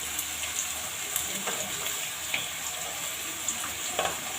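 Potato and carrot pieces added to a pan of frying vegetables for pasta, a steady bright sizzle with occasional stirring scrapes and small pops, close and continuous, no talk.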